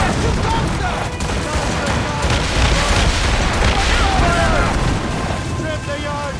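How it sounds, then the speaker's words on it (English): Mortar fire pounds a sailing ship in the Assassin's Creed Rogue video game as a dense, continuous roar of booms and rumbling blasts, with no clear pauses. "All hands! Mortar! Brace for impact!"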